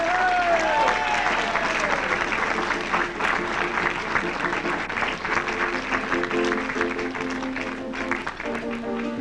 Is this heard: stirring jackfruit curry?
no